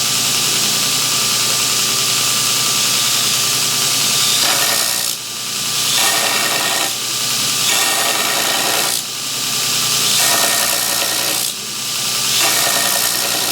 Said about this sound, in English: the opposite side usually grinds easier for me. This side's usually my harder side to grind.